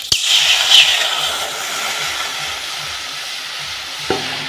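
Water splashing into a hot wok on a gas stove, a sharp initial hit that turns into a broad steamy sizzle and hiss, then fades to a quieter simmer with a brief clank near the end.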